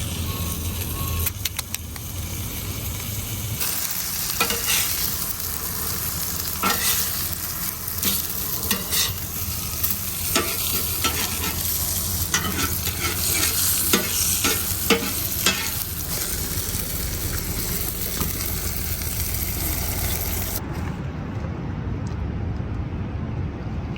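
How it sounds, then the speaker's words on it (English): A piece of halibut fries in a pan outdoors at a truck, giving a loud, steady sizzle and crackle that runs almost continuously, with occasional scraping stirs, before cutting off near the end. "we got a little extra piece of halibut left, so I'm just gonna fry it up"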